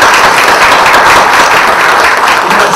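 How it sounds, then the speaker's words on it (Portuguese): Sustained audience applause at a hospital teaching event in honor of a medical psychology team, a dense, loud, steady wash of many hands clapping close by with no talk over it. "Então eu quero pedir uma salva de palmas ao Zeca, a Elizabeth"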